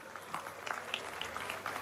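Applause from an audience at the opening of a political party seminar in Brazil, a thin, scattered patter of claps with a few louder individual claps, steady and fairly faint across the clip.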